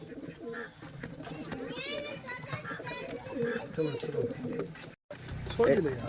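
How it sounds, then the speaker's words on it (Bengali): Domestic pigeons coo at a bumper pigeon sale, heard faintly beneath children talking and playing close by. "এ দুটো বাম্পার পায়রা ঠিক আছে শুধু দেখতে থাকবে"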